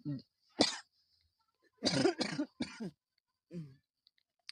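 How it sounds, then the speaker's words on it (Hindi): A person coughs hard several times in quick bursts, loud and close, with short gaps of quiet between the rough, strained coughs. "बहुत तेज खांसी बढ़ है यार।"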